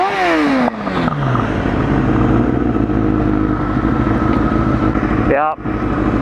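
A motorcycle rides along with a steady engine drone and rising revs at the start and near the end, close and loud, while someone talks over the ride.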